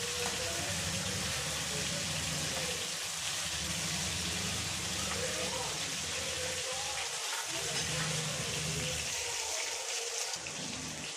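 Masala-coated fish fries in a pan, a steady soft sizzling hiss that runs evenly throughout at moderate volume without speech.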